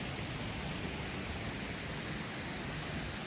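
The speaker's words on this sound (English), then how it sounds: "We have a hot tub under the waterfall there" Waterfall pouring steadily into a hot tub at a casino resort, a dense, unbroken rushing wash of water that stays constant and fairly loud throughout, with no voices over it.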